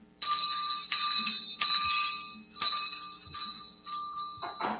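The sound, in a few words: ringing hand bell like Christmas street collectors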